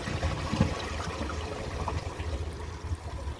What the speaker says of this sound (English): I'm just going to give it another flush and see if it can take the rest.